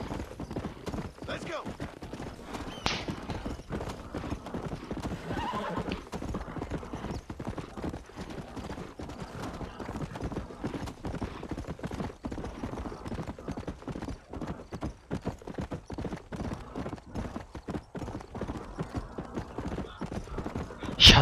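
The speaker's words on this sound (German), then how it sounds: "Mein Pferd schmeißt mich gleich runter." Steady clip-clop of horse hooves as a horse is ridden in the Western video game Red Dead Redemption, continuous and fairly loud throughout, with someone talking over it at times.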